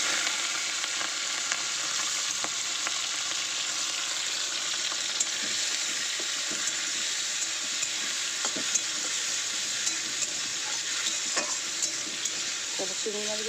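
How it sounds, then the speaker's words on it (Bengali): Prawns frying in oil in a wok give a constant, even hiss of sizzling, broken by occasional soft stirring clicks and pops. "চিংড়ি মাছগুলো একটু ভেজে নেব"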